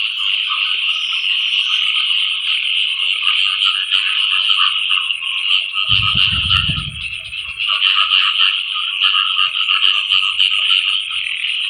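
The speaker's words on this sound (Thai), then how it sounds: "เสียงกบเสียงเขียดนะพี่น้องเถอะ" Frogs croaking at night in a flooded rice field after heavy rain, a loud continuous chorus of dense trilling calls that carries on throughout, with a brief low rumble midway.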